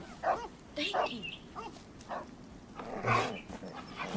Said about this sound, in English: Can't you shut those dogs up?